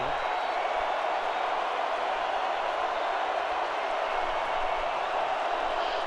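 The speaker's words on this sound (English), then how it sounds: "Crowd is still making noise here, but it's nervous noise." A football stadium crowd at a playoff semifinal gives off a steady, dense roar that stays level throughout, with no clear voices standing out.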